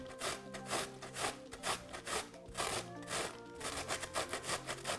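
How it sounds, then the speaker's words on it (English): Rhythmic rasping strokes of red cabbage being grated on a cheese grater into a bowl, a quick repeated back-and-forth scraping close up. "We need to start by grating our red cabbage."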